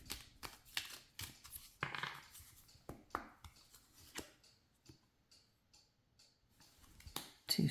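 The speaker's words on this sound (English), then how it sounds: "I'll just do a couple shuffles so you know it's a legit read." Tarot cards being shuffled by hand, a run of crisp riffling flicks and taps in irregular bursts, close and fairly quiet, with no talking.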